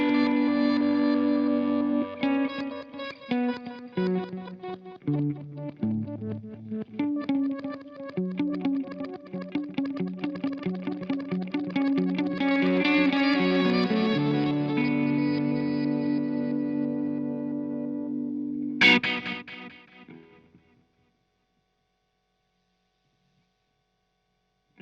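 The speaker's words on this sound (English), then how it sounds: "One of my favorite functions on minim is this reverse thing. So I engage the reverse thing and listen." Guitar played through the reverse function of a Minim pedal, swelling backward notes with heavy modulation and echo building into a dense wash, then a sharp final swell before silence.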